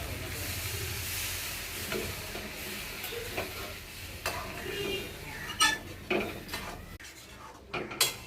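Water poured into a hot cooking pan after a spice masala has been sautéed hisses and steams steadily, with scattered utensil clanks and scrapes growing sharper toward the end.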